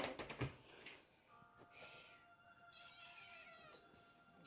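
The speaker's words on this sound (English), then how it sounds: "Mostly the cat because she's meowing." A cat meows indoors several times, short and fairly faint cries spread across a quiet room, following a brief clatter at the start.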